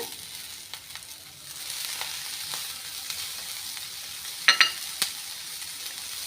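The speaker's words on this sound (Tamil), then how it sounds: "தேங்காவை நல்லா வறுத்து எடுத்துக்கலாம்" Grated coconut frying in a pan for a spicy mutton gravy, a steady soft sizzle with a few sharp crackles and scraping stirs near the end, close and fairly quiet.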